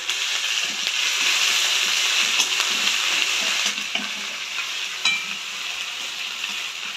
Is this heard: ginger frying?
yes